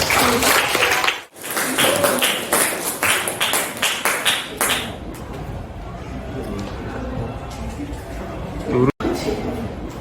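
A school class in Indonesia claps together in a quick rhythmic burst of close, loud applause for about five seconds, then fades into quiet room chatter.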